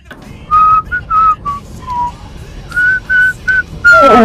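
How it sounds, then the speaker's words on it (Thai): A person whistles a simple tune in short, clear notes with brief pauses between phrases, loud and close, with no talking over it. "ผิวปากเลยอ่ะ"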